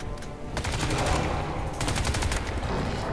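Sustained rapid automatic gunfire in Crysis 2, dense continuous bursts of loud close shots overlapping into a steady rattling barrage.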